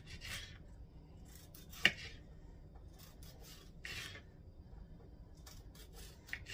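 Knife slicing through tomatoes on a cutting board, a few short soft rasping strokes spaced apart with one sharper tap of the blade, quiet and close with no voices.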